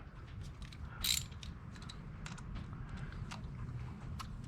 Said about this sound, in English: 8mm socket.